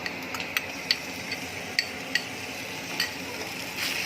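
Onion with ginger-garlic paste and chilli paste sautéing in a pan for parwal kalonji, with soft sizzling and occasional sharp clinks of a spoon stirring against the pan.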